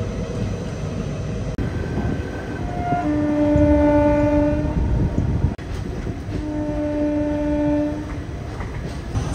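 The Delta Express passenger train pulls into Ghatkesar station with a loud, continuous rumble of rolling wagons, and its horn sounds in two long tonal blasts over the noise.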